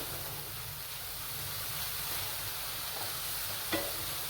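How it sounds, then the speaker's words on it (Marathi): Amla (Indian gooseberry) and sugar frying in a pan, a soft, steady sizzle and hiss with faint stirring, one small clink near the end. "थोडीशी साखर आपण विरघळू देऊ, एक 5 मिनिटं परतून घेऊ याला"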